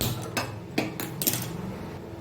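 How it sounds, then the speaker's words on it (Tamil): A few metallic clanks and taps of a metal pan being set down and shifted on a stovetop before roasting semolina in ghee for rava kesari, close by in a quiet room. "ஸ்டவ் ஆன் பண்ணி பாத்திரம் வச்சுக்கலாம்"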